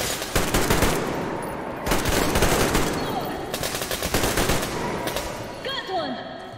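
Bursts of rapid automatic gunfire in the video game Metro Exodus crackle loud and close in several volleys, with short pauses between them and a ringing metallic tail at the end.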